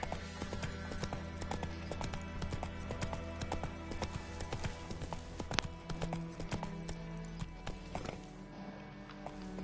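A horse in The Witcher 3 gallops with a fast, steady clip-clop of hooves over a constant game background, close and moderately loud throughout.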